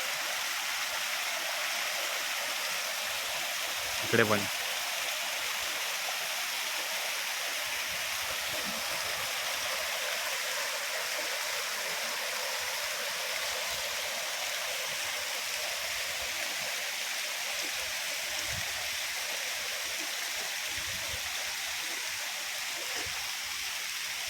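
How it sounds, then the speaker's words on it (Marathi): Mountain stream in Gaganbawda ghat rushing over rocks, a steady broad roar of flowing water throughout, with a brief spoken word early on. "हा झरा बघा"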